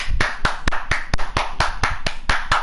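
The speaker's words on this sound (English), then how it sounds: "Everybody clap your hands!" One pair of hands claps in a celebration, about a dozen sharp, close claps in a quick, slightly uneven rhythm with nothing else behind them.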